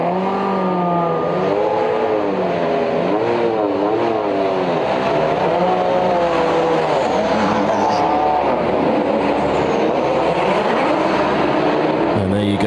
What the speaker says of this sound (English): You can hear these cars coming off the line